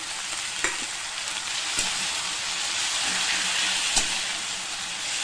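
Onion and green chilli frying in a pan, a steady loud sizzle and hiss with a few sharp clicks of a spoon against the pan, no talking.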